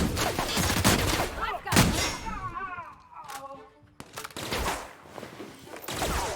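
Rapid bursts of gunfire in The Outer Worlds, loud and close, arriving in clustered volleys with short pauses, while a voice speaks between the shots.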